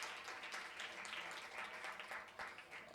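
A small audience applauds a guest, giving a quiet, even spread of clapping that continues steadily throughout without voices on top.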